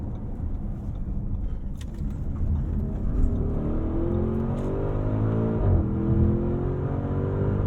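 2022 Audi SQ7 V8 accelerating through a corner in Sport traction mode, with a steady engine drone and rising revs heard from inside the cabin.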